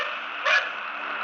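A dog gives one short, sharp bark near the middle, fairly close, over a steady tonal background hum.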